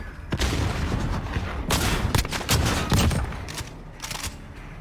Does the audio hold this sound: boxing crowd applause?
no